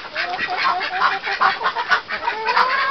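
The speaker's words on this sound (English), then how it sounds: "he is a Rhode Island Red rooster" A flock of chickens, including a Rhode Island Red rooster, clucks and squawks close by, a continuous jumble of short, overlapping calls rising and falling over a few seconds.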